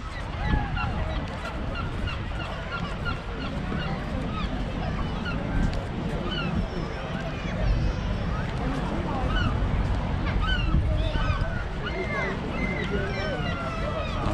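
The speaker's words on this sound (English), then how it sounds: "sure you can hear the seagulls, which is something that I always associate with the seaside." Seagulls call repeatedly at a breezy, sheltered spot on the seaside at Weymouth, Dorset, their squawks scattered through steady wind and ambient noise while people talk in the background.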